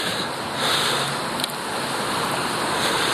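Strong, steady wind roars and buffets across the whole stretch, loud and broadband, with no voices, during a bicycle commute in Toronto in March.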